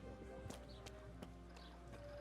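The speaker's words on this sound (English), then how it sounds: "My horse is walking all the way over here instead of teleporting." Hooves of a horse walking in the video game Kingdom Come: Deliverance, a few soft irregular clip-clop steps, faint against a steady low background hum.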